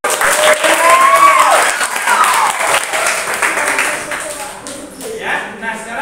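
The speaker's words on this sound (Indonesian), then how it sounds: "Tepuk tangan buat Arya." A classroom of students claps for a classmate after he answers, a lively burst of applause with cheering voices, thinning out toward the end as a voice speaks.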